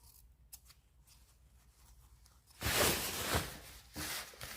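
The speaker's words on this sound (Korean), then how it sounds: "여기 시접이 너무 많으니까 좀 잘라내시고." Scissors trim excess seam allowance from fabric while sewing a ribbon dress, quiet at first, then a few close, crisp snipping cuts in quick succession.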